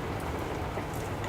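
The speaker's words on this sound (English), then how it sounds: "If you can hear that noise in the background, that's actually rain on the shed roof" Steady rain drumming on a shed roof, a dense continuous patter heard close and alone.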